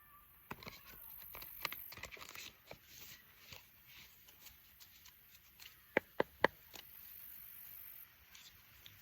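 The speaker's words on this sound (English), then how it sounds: "I'm just giving a quick shuffle." Spirit animal oracle cards are shuffled quietly by hand, a soft run of riffling and sliding with a few sharper slaps near the end.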